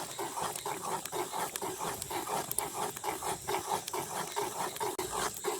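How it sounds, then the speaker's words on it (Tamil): Green black gram porridge (kali) stirred in a pot in a village kitchen, heard as a steady rhythmic scraping and rubbing repeating roughly twice a second, close and moderately loud. "இப்படியே நல்ல வடிவாக கிண்டி எடுப்போம் அதான் கிண்டுறது"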